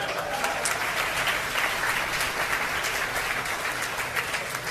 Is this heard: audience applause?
yes